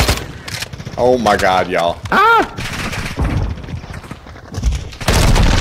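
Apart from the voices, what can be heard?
gunfire in Call of Duty Modern Warfare 2 video game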